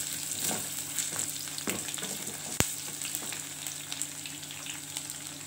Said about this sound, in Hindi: ये मैंने कटा हुआ जो आलू है मैं डाल रही हूँ